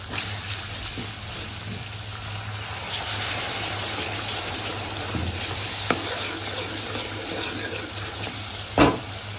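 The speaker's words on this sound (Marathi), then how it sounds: "थोडंसं पाणी टाकूयात।" Water splashes and hisses into a hot pan of spiced green chilli curry, a steady sizzling wash with a few soft clinks and a sharp tap near the end.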